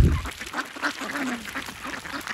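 Several ducks quacking close by during an outdoor feeding, with busy, overlapping quacks and honking calls at an uneven rhythm throughout.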